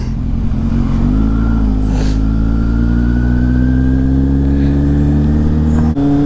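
A Kawasaki Z800 motorcycle rides in second gear on a road trip, its engine a loud, steady drone that climbs slowly in pitch as it accelerates, with wind noise over it and a brief dip near the end.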